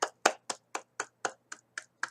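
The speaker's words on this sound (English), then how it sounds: "I don't know why I'm clapping, but I feel like clapping" Nine crisp hand claps by a single person in a quiet room, evenly spaced at a brisk steady rhythm, close and fairly soft, with no voices.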